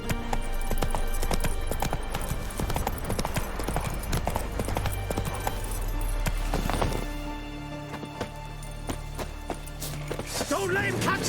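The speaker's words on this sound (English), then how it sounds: "Run, Roach." Hoofbeats of the horse Roach galloping in The Witcher 3, a steady fast clip-clop under a busy game soundscape with music and effects, with a brief snort or whinny near the end.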